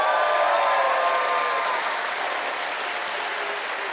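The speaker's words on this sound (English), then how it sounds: "give each other a great round of applause" Sustained applause from a convention audience at a furry convention opening ceremony, a dense wash of many hands clapping that stays steady and full for the whole stretch, then eases slightly toward the end.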